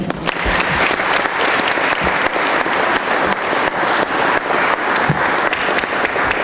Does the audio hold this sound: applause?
yes